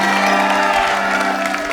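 A crowd at an evangelistic gathering in Grand-Rivière claps loudly and steadily for the young people, a dense, continuous wash of applause with faint cheering mixed in.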